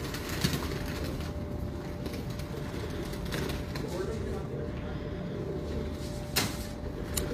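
A well-built pair of Chini pigeons in Multan cooing low and soft, the sound rumbling under a murmur of nearby voices, with a couple of brief knocks.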